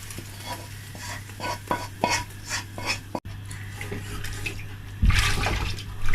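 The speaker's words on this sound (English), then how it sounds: "So now I'm going to pour it into the tomato, pouring it in." Fried tomato paste pours and splashes into a tomato blend for Nigerian jollof rice, a close, steady wet stirring and sizzling sound that grows louder near the end.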